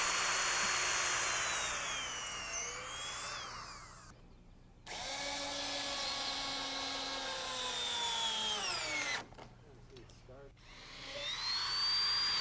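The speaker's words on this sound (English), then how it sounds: "we drill pilot holes through the decking." A power drill whines through wood decking drilling pilot holes in several long bursts with short pauses between, the motor pitch rising and falling, close and loud.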